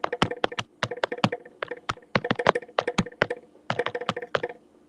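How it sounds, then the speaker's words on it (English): Fingers type on a mechanical keyboard, producing loud, close, clicky keystrokes in quick irregular bursts separated by brief pauses, with no voices. "typing away on what sounds like a mechanical keyboard"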